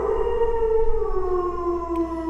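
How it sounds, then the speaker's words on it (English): An eerie, drawn-out howl rings through the swamp trees of the Atchafalaya Basin, a steady tonal wail that slowly slides lower in pitch over a low rumbling background, loud and without voices. "That's when I heard the howl."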